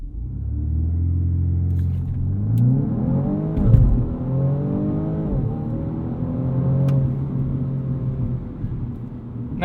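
A 2020 BMW M235i Gran Coupe performs a launch control start, its engine rumbling loudly and rising in pitch through the gears as the car accelerates hard, heard from inside the cabin.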